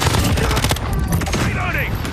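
Rapid bursts of automatic gunfire crackle through a firefight in Call of Duty Modern Warfare on PC, dense and loud throughout, with a voice calling out over the shooting.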